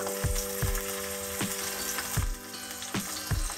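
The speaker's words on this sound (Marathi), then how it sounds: "आपलं तेल गरम झालंय, त्यामध्ये मी मिरची घालून घेते" Green chillies and garlic sizzle in hot oil in a home kitchen, a steady crackling fry broken by regular thumps and scrapes of a spoon stirring the pan about every half second.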